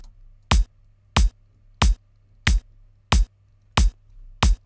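Punchy programmed kick drum in a Studio One two-bar loop, seven evenly spaced deep thumps landing on every downbeat over a faint low hum, no other instruments.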